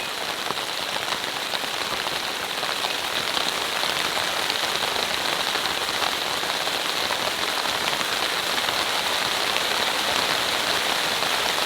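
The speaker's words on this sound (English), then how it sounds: "Wow, listen to the rain." Heavy rain drums steadily on the fabric of an air tent pitched beside a car, a dense, continuous hiss and patter that stays loud and unbroken throughout with no voices.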